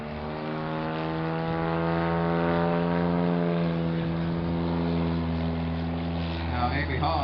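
A Pitts aerobatic propeller plane roars past at a fly-in airshow in Valdez, a loud sustained engine drone with a steady pitch. It fades slightly at the end.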